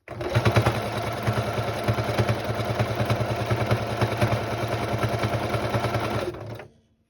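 A sewing machine stitches fabric for a storage bowl in a fast, even, continuous clatter for about six seconds, close and clear, then stops abruptly.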